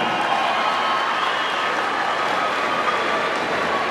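A jaripeo crowd at a rodeo tournament in El Relicario applauds steadily, a dense, loud wash of clapping that holds evenly for several seconds with no voice on top.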